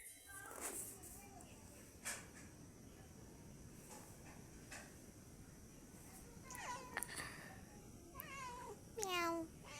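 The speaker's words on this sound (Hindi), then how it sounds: "है तो मेरी पेट ही, लेकिन ये गली की बिल्ली थी" A stray street cat meows faintly several times, with a few short rising cries near the end, set against a steady hiss of background noise.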